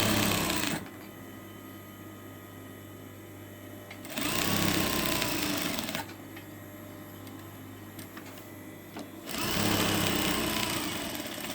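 A sewing machine stitching a fabric bow forward and back runs in loud, rapid bursts with quieter pauses between them.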